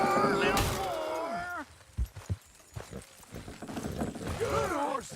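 Horses' hooves clip-clop in Red Dead Redemption 2, a steady trotting rhythm set under loud game dialogue and shouted voices, with creaking mechanical sounds mixed in.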